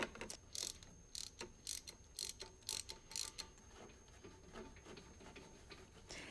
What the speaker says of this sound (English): Then use a 21mm spark plug socket to remove the spark plug.